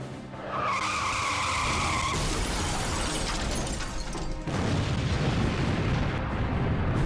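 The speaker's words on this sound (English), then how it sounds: "those are some big explosions" Big movie explosions thunder with heavy crashing and skidding noise, a loud sustained barrage with a brief tonal sweep early on and no talk.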